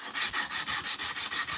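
Sandpaper rubbed back and forth by hand to smooth and finish the edges of a piece, about eight steady, even strokes in a quick rhythm, close and clear with no talking.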